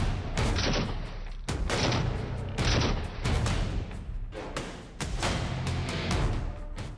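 Cross-border gunfire from the Pakistani side, dense volleys of shots and booming bursts that crack out in rapid irregular clusters, loud and continuous throughout with no talking.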